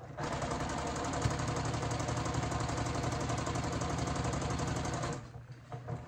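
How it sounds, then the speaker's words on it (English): A sewing machine stitches an apron waistband slowly around a curve, its needle giving a dense, continuous mechanical whir with rapid even ticks, close and loud, before stopping abruptly near the end and leaving a few faint handling sounds. "Try to just glide your presser foot along the edge of your fabric there."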